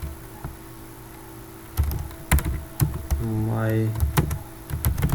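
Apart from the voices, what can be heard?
typing Python code on a computer keyboard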